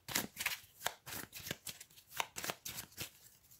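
Cards being shuffled for a solo game of Tapestry, a run of quick riffling bursts in a steady rhythm, close and fairly quiet with no talking.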